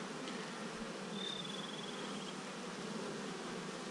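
Pollination honey bees in far west New South Wales make a steady, dense hum that runs unbroken, with a faint brief whine passing partway through.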